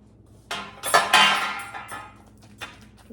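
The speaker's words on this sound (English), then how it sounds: "So we're going to get the pan now." A metal baking pan being pulled out and set down, a few close clanks and rattles of pans and utensils over about three seconds.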